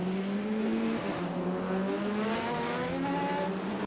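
A Porsche Group 5 race car roars past at Sonoma Raceway, its engine note climbing steadily in pitch as it accelerates, loud and close.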